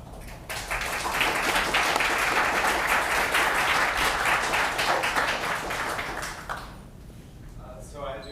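Dense, sustained applause from an audience at a local community talk event, a loud continuous wash of many hands lasting several seconds before tapering off near the end.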